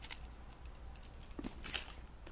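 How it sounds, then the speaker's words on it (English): A set of regular house keys jangling as they are handled, faint light metallic clinks with a brighter rattling burst near the end, heard alone. "these are my regular keys"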